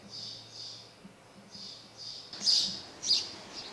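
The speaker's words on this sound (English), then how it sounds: "I wonder if the camera can hear the birds going on out there." Birds chirp in short repeated bursts outdoors, a few calls close and sharp, with faint low background hum.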